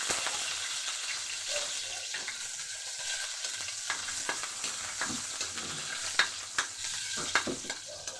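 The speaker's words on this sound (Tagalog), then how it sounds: "igisa muna natin yung bawang at buyas" Garlic and onion sauté in a pan with a steady close sizzle, while a utensil scrapes and stirs in occasional sharp clicks, and no one speaks.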